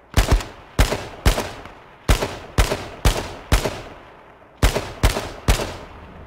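Gunfire in the battle royale video game H1Z1, about ten sharp, loud, close shots fired singly at roughly half-second to one-second intervals, each with a short decaying tail.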